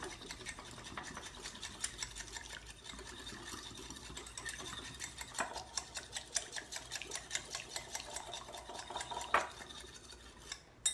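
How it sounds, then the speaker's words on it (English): A whisk beats salt and pepper into a mixture in a bowl, producing rapid, continuous rhythmic ticking and clinking close to the microphone for about eleven seconds. "Then you're gonna whisk it together."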